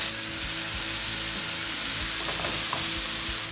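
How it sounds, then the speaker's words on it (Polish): Marinated chicken fries in clarified butter in a pan, giving a dense, steady sizzle heard up close with scattered small pops and spits throughout. "Pięknie skwierczy."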